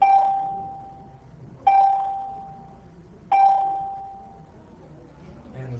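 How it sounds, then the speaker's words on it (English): An electronic school bell rings as three loud, sustained tones at even intervals, each decaying slowly before the next strike, heard up close in a classroom with faint background murmur. "Man, these bells take forever."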